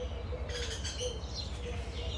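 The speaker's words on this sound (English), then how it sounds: "And of course the birds are having a wonderful time." Small birds chirp and tweet outdoors on a pleasant day, light scattered calls over a soft steady background hum, fairly faint and without talk.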